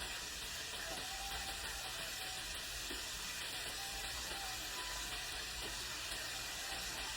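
Steady, even sizzling and crackling of chicken frying in hot oil, continuous and close, with no talking.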